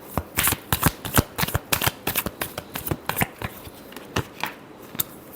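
Tarot cards shuffled by hand in quick, close riffling bursts that repeat in a steady rhythm, crisp and fairly loud, with no talk over them.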